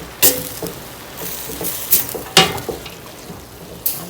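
Minced onion and seasoning stirred into a pot of collard greens, with a few soft scraping and wet rustling bursts spread unevenly over a faint background hiss.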